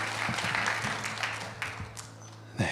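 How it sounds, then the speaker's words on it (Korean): A church congregation gives a round of applause at a late-night prayer meeting. The clapping is moderate and steady, fades, then picks up with a final louder burst, over a low electrical hum in the hall. "우리 하나님께 영광의 박수 올려드리겠습니다"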